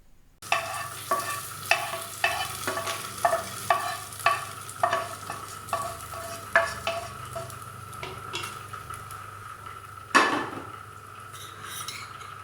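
Repeated scraping and clinking of a spoon stirring cooked rice into a Ven Pongal tempering in a pot, rhythmic strokes about every half second, close and clear, ending with a louder clatter; no talking.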